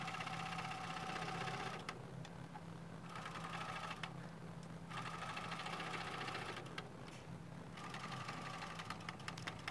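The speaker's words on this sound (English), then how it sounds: "I'm still using a zigzag stitch and the pink thread, and just carefully going along the edge all the way around the journal cover." Sewing machine running a zigzag stitch with pink thread along the edge of a manila folder and denim journal cover, giving fast mechanical whirring in several bursts separated by brief pauses.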